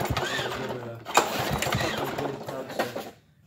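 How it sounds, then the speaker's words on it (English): A Cub Cadet lawn mower engine is cranked over with oil in the cylinder, giving a rapid, uneven mechanical chugging and whirring close by that fades out abruptly at the end. "then we'll just turn the engine over just to get it dispersed"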